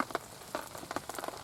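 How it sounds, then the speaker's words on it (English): Rain patters on a tent or tarp at a wild campsite during a downpour, scattered close taps and drips over a soft hiss, fairly faint, with no talk. "it's tipping it down out there"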